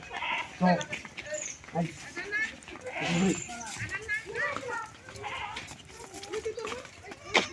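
A goat bleats several times nearby, mixed in with ongoing conversation between people talking about selling it at the market.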